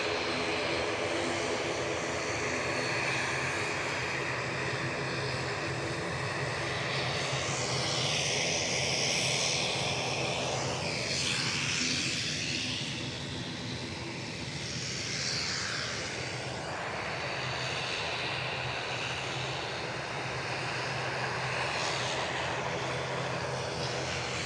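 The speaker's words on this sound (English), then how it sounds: "The noisy critter behind is this ATR to Dublin." An ATR turboprop bound for Dublin at Edinburgh Airport drones loudly and close, its propeller whine sweeping up and down in pitch as it passes, with a sustained engine rumble and no talking.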